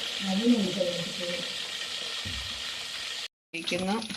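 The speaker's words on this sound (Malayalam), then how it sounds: "chicken fry ആയിക്കൊണ്ടിരിക്കുന്നു" Constant crackling sizzle of chicken frying in a hot pan, close and steady, with voices talking over it at times.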